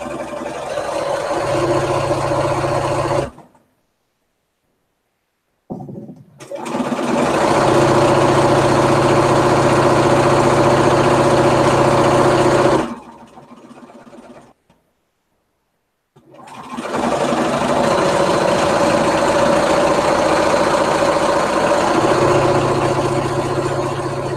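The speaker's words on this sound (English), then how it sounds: "My poor machine needs some service too, Carol." A sewing machine runs in long continuous bursts while quilting a jelly roll race quilt, a loud steady whirring motor hum broken by two brief stops.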